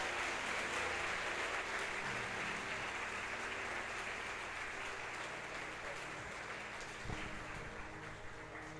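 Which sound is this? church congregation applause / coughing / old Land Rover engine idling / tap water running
church congregation applause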